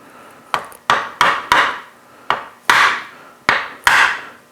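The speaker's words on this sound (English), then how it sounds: "we first start with a punch and make a mark" A metal punch is struck with a hammer into a wooden dowel to mark a hole, giving eight sharp, close knocks at an uneven pace, each with a short ringing decay.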